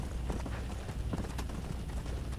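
Horse hooves clip-clop at a steady trot in the Red Dead Redemption Undead Nightmare video game, a dense rhythmic patter over a constant background wash with no voices.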